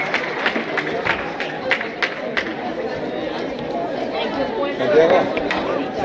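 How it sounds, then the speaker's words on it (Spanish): Crowd at a Catholic congress in Los Angeles claps and cheers for several seconds, a dense wash of applause and voices with shouts rising near the end. "¡Un aplauso, por favor!"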